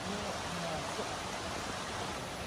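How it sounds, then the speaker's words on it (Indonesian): Steady broadband rush of a clear river flowing near a waterfall at a hidden forest site in Madiun, a continuous wash of water filling the whole stretch without pause. "kita sudah melihat sungai karena di sana sudah ada air terjun"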